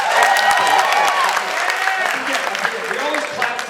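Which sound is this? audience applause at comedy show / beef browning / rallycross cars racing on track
audience applause at comedy show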